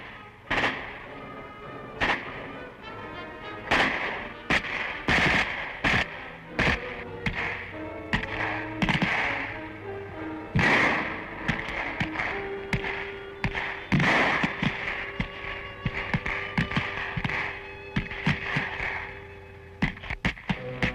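Mock military skirmish with blank ammunition fired by West German troops in a 1970 Cold War exercise: sharp, loud reports in irregular bursts and single shots, some overlapping, continuing throughout without any voices.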